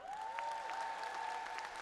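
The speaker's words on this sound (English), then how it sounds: "Another round of applause for Leo" Faint applause for the singer Leo at a college graduation ceremony, a steady distant clapping with a sustained tone ringing over it.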